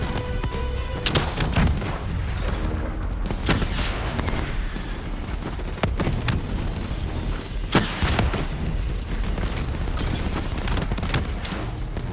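Call of Duty Black Ops 3 combat gunfire, loud sustained bursts of automatic weapon fire with scattered heavy booms and impacts, dense and continuous for the whole stretch.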